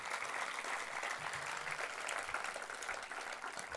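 An outdoor audience at the Fête de la Violette applauds the mayor of Villerviers, a sustained, even round of clapping heard alone at moderate distance.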